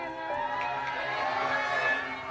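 A crowd gathered outside the Celebrity Big Brother house yells and cheers in a steady, dense roar of many voices, heard from a distance without a break.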